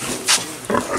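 Pigs grunt and snuffle close by while feeding on harvested kangkong, with a couple of short grunting bursts over a noisy farmyard background.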